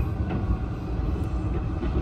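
A two-car Aizu Railway train runs steadily, a dense low rumble of wheels and carriage noise held at an even level throughout with no voices.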